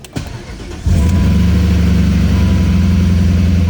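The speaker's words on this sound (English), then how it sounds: "the engine is clicking a little bit, but I think it's probably the lifters that just need a little bit more oil" BMW M5 E39 engine turning over and catching, then settling into a loud, steady idle close by, with a faint light clicking from the lifters under the low rumble.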